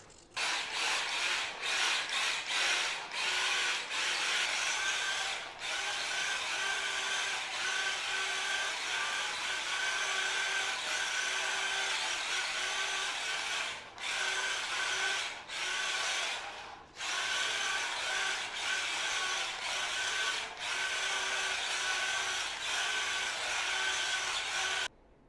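A tiny Hstar 1:24 scale Toyota Supra RC drift car runs continuously with a steady high-pitched electric motor whine, briefly cutting out and resuming several times, heard close up with no talking.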